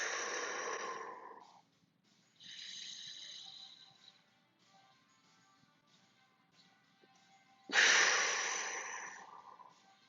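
Deep breaths drawn in through the nose and let out through the mouth during a mobility and recovery workout, three long airy breath sounds spaced across the stretch with quiet pauses between them, close and fairly loud.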